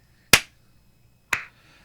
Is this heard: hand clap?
yes